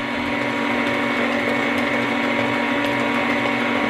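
A kitchen mixer steadily stirs sweet potato pie filling, a continuous close whirring hum with a faint rattling texture, running evenly without pause.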